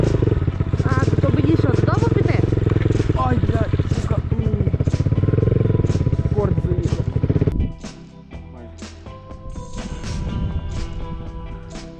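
A Geon Scrambler 250 motorcycle engine revs loudly during off-road riding, a dense, throaty drone that cuts out abruptly near the end, leaving quieter clatter and a lower idle.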